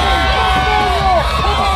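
A dense, loud crowd cheers and shouts continuously at a strongman atlas stones event in Dubai as Luke Stoltman lifts stones of 180 kilos, a steady roar of many voices with no pauses.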